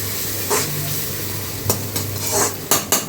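Tomatoes frying in a pan, a steady close sizzle with several scraping stirs and light clinks of a spoon against the pan, no talking.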